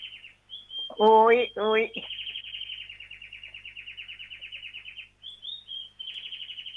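Small birds chirp in rapid, continuous high-pitched trills through most of the stretch, fairly close and steady, pausing briefly near the end; someone speaks a couple of words over them early on.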